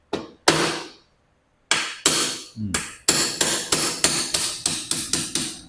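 A hammer knocks out a pin on an Umarex/VFC HK416D gas airsoft rifle, with a few spaced, sharp close strikes first, then a quick run of about nine evenly timed blows.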